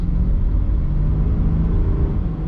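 A Chevrolet C8 Corvette accelerates on a snowy highway, its engine a loud, dense low rumble that fills the cabin continuously without pause.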